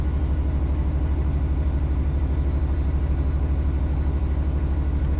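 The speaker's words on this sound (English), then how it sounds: "You heard the Rotom cab car has a rumbling sound as well." Steady low rumble and engine drone from a Rotom cab car on the East Coast Main Line in Train Sim World 4, loud and unbroken with a faint rhythmic pulse throughout.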